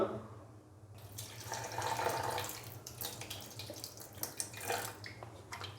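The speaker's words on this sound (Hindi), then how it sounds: "बीफ डालने के बाद अभी मैं इसके अंदर पानी डालूंगा।" Water pours steadily into a pressure cooker holding marinated beef for about one and a half glasses' worth, a continuous splashing stream that swells and wavers in a quiet kitchen.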